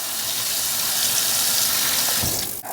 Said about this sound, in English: is a really good rinse in fresh water